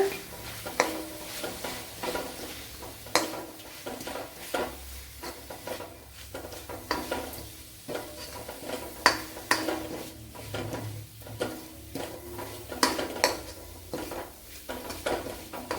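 A spoon stirs chili and turmeric powder into dry shrimp in a pan, giving repeated close scraping and clinking strokes over a soft sizzle, steady for about sixteen seconds with no talking.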